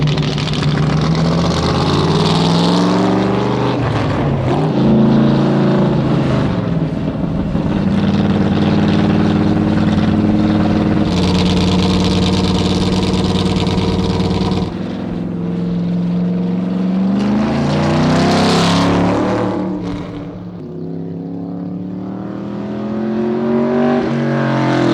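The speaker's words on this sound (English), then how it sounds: "There's simply no way to describe the sensation of riding in a 427 competition Cobra." A 427 competition Cobra's big V8 roars loud and close through fast track laps, rising and falling as it accelerates hard, shifts and backs off, with no talking over the continuous engine note.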